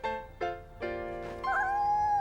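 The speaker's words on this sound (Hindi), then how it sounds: "ये एक बिल्ली है" A small kitten meows several times in a row, clear close tonal cries rising into a longer drawn-out final meow, with no talking.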